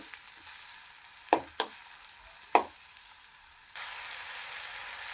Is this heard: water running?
no